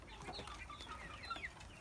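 White Leghorn chicks hatched from Czech eggs peep and cluck softly and continuously, faint and close, with no voices.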